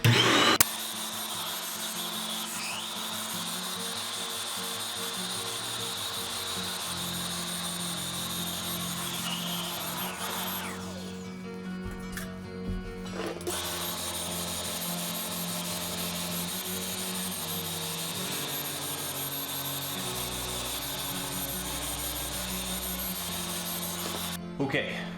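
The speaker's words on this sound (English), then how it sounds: "I'm gonna vacuum that out now" A Data Vac electric duster vacuuming dust out of a PC's removed front panel, a loud continuous high-pitched motor whine that dips briefly midway as the nozzle moves, steady and close.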